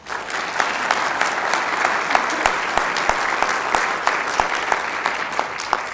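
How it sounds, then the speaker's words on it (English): Steady audience applause fills a community report evening event, dense and sustained with a few sharper claps standing out, heard at moderate distance with no talking. "How about a round of applause?"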